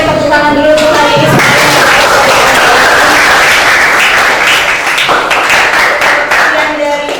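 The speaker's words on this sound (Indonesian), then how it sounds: "tepuk tangan dulu untuk hari ini" A classroom of students claps together at the end of a lesson, a loud, dense burst of applause lasting several seconds with a few voices mixed in.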